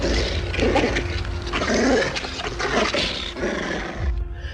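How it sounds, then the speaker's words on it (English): A killer dog snarls and growls in fury, close and loud, with repeated rough roaring bursts that come and go over a few seconds. "Leaving the snarling, enraged killer dog tangled in his coat"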